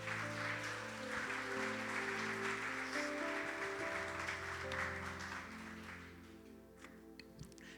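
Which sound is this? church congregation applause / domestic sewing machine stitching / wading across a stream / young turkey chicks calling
church congregation applause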